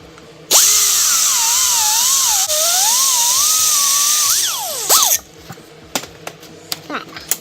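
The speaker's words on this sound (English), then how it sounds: "this is a 3M greenly grinder wheel." Grinder fitted with a 3M green grinding wheel working metal on a MiniTrike engine cradle, a loud close high whine of about four seconds with wavering pitch, then spinning down into scattered clatter.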